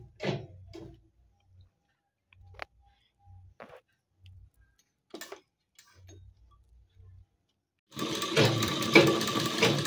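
A sewing machine stitches along the fold of a nightie: a few sparse light ticks and clicks, then a loud, steady, continuous whirr of stitching fills the last two seconds, close by with no voices.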